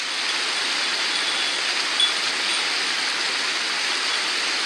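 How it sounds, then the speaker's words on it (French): A mountain torrent rushes past in a steady, loud wash of water that stays constant from start to finish, alone without speech. "Donc là, il est fasciné par le torrent."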